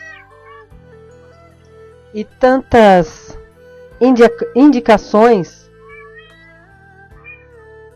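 A pet cat frightened by rainy weather meows loudly and repeatedly up close, one drawn-out cry followed by a quick cluster of several yowls, with someone speaking quietly around them.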